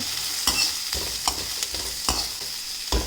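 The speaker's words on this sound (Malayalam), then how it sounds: "നന്നായി വഴറ്റിയെടുക്കണം" Ingredients sizzle steadily in a pan as they are sautéed for a North Indian-style pumpkin curry, with regular spatula strokes scraping the pan every half second or so, close and loud with no speech.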